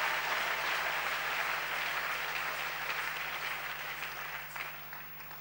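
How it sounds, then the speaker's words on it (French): A church congregation claps loudly in dense, sustained applause that stays strong for several seconds, then tapers off near the end. "j'aimerais que tu acclames très fort."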